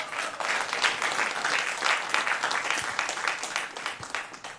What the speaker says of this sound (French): On va l'acclamer très fort,